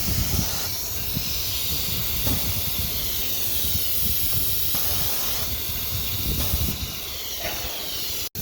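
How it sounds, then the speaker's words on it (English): Pneumatic spindle lift cylinder on an oscillating knife cutting machine, heard as a loud, continuous air hiss with faint shifts in tone as the cylinder moves, ending in an abrupt click. "The spindle lift. It means the spindle cylinder, it will be down or up."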